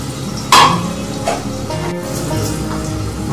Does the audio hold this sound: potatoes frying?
yes